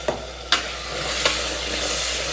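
Ground masala paste fries with onion, tomato and curry leaves in a pan, a loud close sizzle with a few sharp stirring scrapes near the start, then steady hissing.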